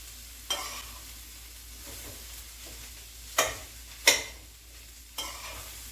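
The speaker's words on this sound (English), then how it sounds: "I'll give it a stir a little here, make sure nothing is burning" Broccoli soup in chicken broth being stirred in a pot over fairly high heat: a few sharp scraping knocks spaced a second or so apart over a quiet steady sizzle, close by, with no talking.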